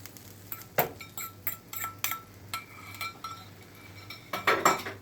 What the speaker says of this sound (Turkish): Yumurtayı döktük.